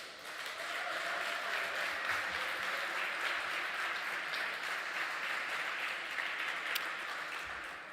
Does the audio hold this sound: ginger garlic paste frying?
no